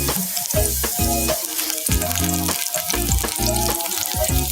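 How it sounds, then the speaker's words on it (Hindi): Chopped garlic frying in hot oil over a slow flame, a steady loud sizzle with repeated stirring scrapes and clinks throughout, no voices. "जो मैंने लहसुन को चॉप किया था वो मैं इसमें ऐड कर दूंगी और इसको ब्राउन कर लूंगी।"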